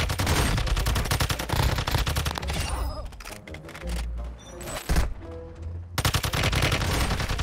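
Weapon gunfire in the mobile shooter game Call of Duty Warzone Mobile: dense rapid bursts, a short pause with scattered shots, then another sustained volley.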